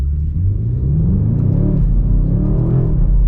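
A 2026 BMW M5 pulls hard at half throttle, its engine a loud, deep rumble that climbs steadily in pitch through the run, heard from inside the cabin with no talking.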